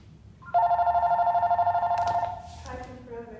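A telephone rings in a wig store with a steady electronic trilling tone that lasts almost two seconds, close and loud. Brief voices and rustling follow as the ring stops.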